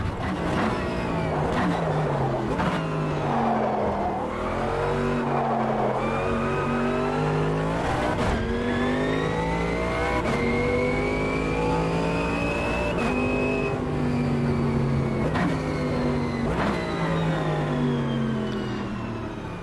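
Race car engines rev and howl continuously in Automobilista 2 GT3 racing, with rising and falling pitch sweeps through gear changes, loud and close throughout with occasional tire noise.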